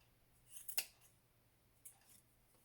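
Scissors snip yarn while trimming the bottoms of a yarn doll's legs even, with a few quiet, close cuts: a quick cluster of two or three snips, then a single snip after a pause.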